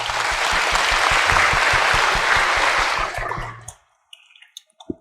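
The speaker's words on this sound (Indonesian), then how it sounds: "Tepuk tangan untuk Laura." Audience at a church recollection gathering clapping for a young girl, a loud rhythmic applause that fades out after about three seconds, leaving a few faint drips and clicks.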